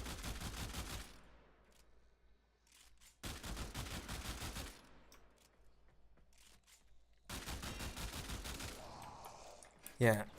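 Burston Riven burst rifle firing in a video game: three long, rapid volleys of gunfire separated by quiet gaps, loud and close, ending with a sharp clicking sound.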